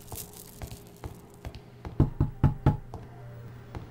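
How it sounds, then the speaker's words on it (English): Knocking on a door in a video game, a few scattered taps followed by four heavy, evenly spaced knocks, close and solid, with no talking. "Somebody's knocking."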